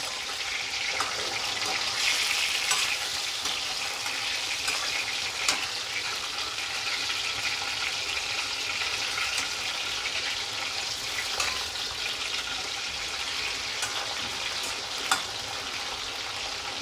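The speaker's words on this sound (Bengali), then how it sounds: "মাছটা হালকা করে ভাজবো" Bhetki fish pieces fry lightly in a pan over low heat, giving a steady, even sizzle with occasional small pops and clicks, close and uninterrupted.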